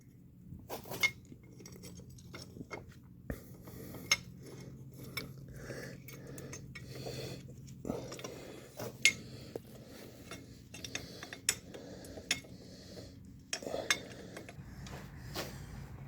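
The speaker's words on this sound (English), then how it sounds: "I'm going to do a washer on the outside, the hex bolt, and then the spacer on the inside." Small metal parts, a washer, hex bolt and spacer, being fitted to an aftermarket case saver sprocket cover on a Suzuki DR650, producing light clinks and taps at irregular intervals over a low steady hum.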